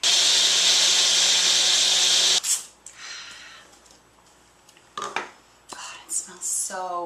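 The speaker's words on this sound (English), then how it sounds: "Now, I just need to blend my sauce." A small kitchen blender blending a Mediterranean ravioli sauce, giving a loud, steady whirring roar for about two seconds before cutting off, followed by quieter handling clatter and soft breathy sounds.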